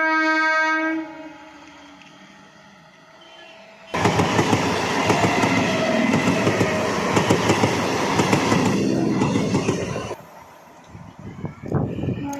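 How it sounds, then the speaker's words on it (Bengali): A train sounds a long horn blast, then rushes past close by in the countryside with a loud, sustained roar and rattling wheels for several seconds before fading, followed by a few faint clanks. "আর এই দেখো বন্ধুরা, সকালে ট্রেন আসছে একটা"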